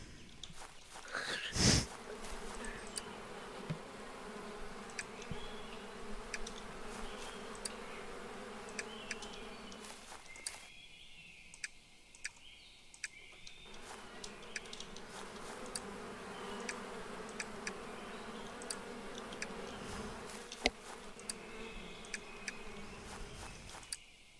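Bees buzzing in the farming video game Apico, a steady droning hum that fills the scene, briefly cutting out and then swelling back at similar strength, with scattered small clicks.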